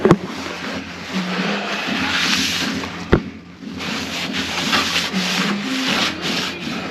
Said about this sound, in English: run the flap wheel